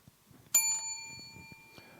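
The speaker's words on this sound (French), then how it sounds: "C'est une sonnette, vous savez, les sonnettes d'hôtellerie." A small hotel reception bell, the kind set on a table, gives a single bright metallic ding that rings on and slowly fades, followed by a softer tap near the end, close up with no talking.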